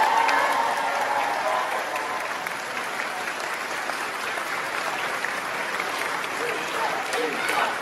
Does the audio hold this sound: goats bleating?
no